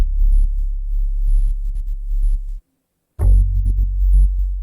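Punchy, throbbing bass notes pulse in a bouncy rhythm from a rhythmic stomp effect, briefly dropping to silence before kicking back in with a sharp attack.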